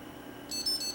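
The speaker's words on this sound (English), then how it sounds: "When it beeps." A few short, high electronic beeps in quick succession, faint and close, over a quiet background hum.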